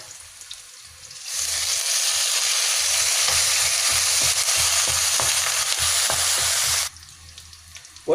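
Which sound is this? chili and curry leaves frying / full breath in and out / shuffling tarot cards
chili and curry leaves frying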